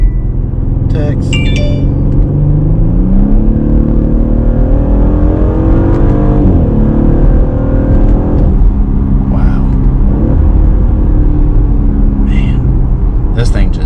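A 2021 Audi SQ5 engine revs up in a steady, loud rumble, its pitch climbing and falling through several sweeps across the whole stretch, with a voice briefly exclaiming over it.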